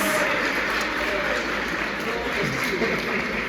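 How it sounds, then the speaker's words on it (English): Audience applause follows a group presentation, a continuous broad rush of clapping held at steady loudness throughout, dense and somewhat distant, with a murmur of voices mixed in. "Let's give them a round of applause."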